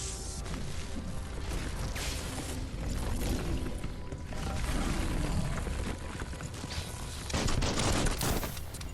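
Gunfire in the action game Biomutant, dense rapid volleys of shots and impacts rattling continuously and loudly, with heavier bursts toward the end.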